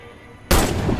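A sniper rifle shot in the Warface shooter game training mode, a single loud blast that starts abruptly and rings on, heard alone without talk.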